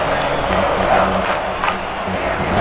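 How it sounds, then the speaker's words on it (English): Crowd cheering in the MLB 2K5 baseball video game during a tied Astros–Padres game, a steady dense roar of many voices with shouts rising and falling, heard throughout without a break. "if you listen closely, or maybe not so closely, you'll hear this crowd picking up their team"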